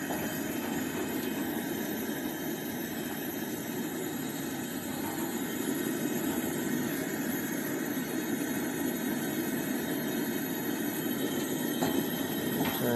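A Coleman 425c two-burner white gas camp stove burner roars at full flame, a steady loud broadband rushing hiss with a low rumble that holds without a break from start to finish, with no voices.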